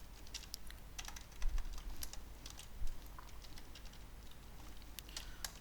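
Rapid, irregular key clicks from a computer keyboard as PHP code is typed, fairly close and steady, with no voices.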